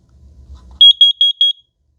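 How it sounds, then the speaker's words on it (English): A Kidde carbon monoxide detector sounds its test alarm: four quick, piercing high beeps in an even rhythm. A faint low rumble comes just before the beeps start. "You're going to get 4 quick beeps. That's simulating an alarm."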